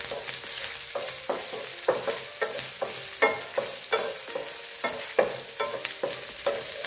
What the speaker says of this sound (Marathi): त्याच्यामध्ये 1 कांदा बारीक चिरून घेतलेला तो ॲड करते आणि व्यवस्थित सगळं आपल्याला फ्राय करून घ्यायचं आहे।